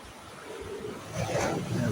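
Sea waves breaking on a beach on an early morning near sunrise, a soft steady wash of surf that swells louder partway through, with wind buffeting the microphone.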